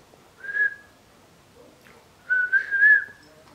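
A person whistles two clear notes, one short and then after a pause a longer wavering whistle, close and distinct in an otherwise quiet room.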